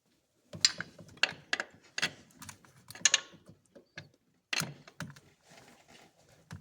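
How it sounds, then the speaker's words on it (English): A belt tensioner is levered and released on a Land Rover LR2 3.2L engine, giving a series of close, sharp mechanical clicks and rattling knocks in irregular bursts, with short pauses between them. "I'll see if I can release tension on that belt and just loosen up"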